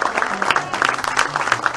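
Concert audience at a live jazz show in New York City clapping for a saxophonist, a short burst of dense, close applause with a few scattered cheers.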